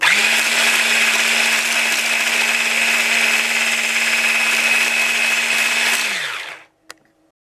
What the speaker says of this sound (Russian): И все это блендером сблендерю. Не блендером, а венчиком.